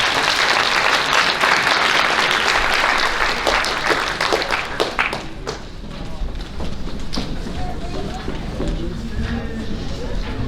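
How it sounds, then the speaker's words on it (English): Loud, dense applause from a banquet crowd for a high school varsity softball team, strongest at first and then thinning to scattered claps and a low room murmur. "Let's give our varsity softball team one more round of applause."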